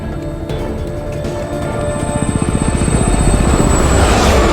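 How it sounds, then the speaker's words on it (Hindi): A helicopter in the Resident Evil 6 video game whirs steadily, its rotor chop growing into a rhythmic pulsing thump that builds louder toward the end. "सो के एडा अब हेलीकॉप्टर लेके निकली है"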